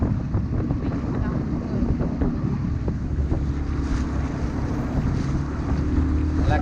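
A sailboat's engine runs at low revs while manoeuvring near Ibiza, a steady low rumble under heavy wind noise on the microphone, continuous throughout.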